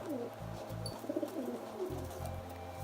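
Pigeons cooing close by in soft, repeated low throaty phrases that pulse rhythmically over a quiet background.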